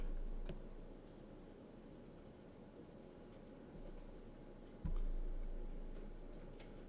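A pencil scratches and rubs steadily across paper, sketching the rough shape of a building structure, with a soft continuous grainy texture and a couple of light taps, close and quiet with no talk.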